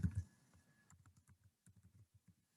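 Keystrokes on a computer keyboard while entering a word into a sheet: a few heavier thumps up front, then a steady run of light, close clicks with short pauses between them, no talk.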